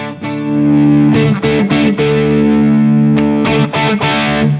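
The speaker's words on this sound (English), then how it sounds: "it starts off with a slightly crunchy amp" A distorted electric guitar with a crunchy, overdriven amp tone plays sustained chords with a few strummed hits, loud and close, no talking.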